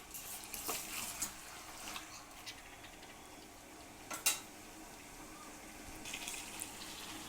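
Chittoor chicken fry being stirred in a pan, quiet scraping and stirring strokes over a low sizzle, with a few sharper clinks and scrapes standing out near the middle and end.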